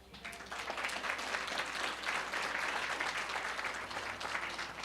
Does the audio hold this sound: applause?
yes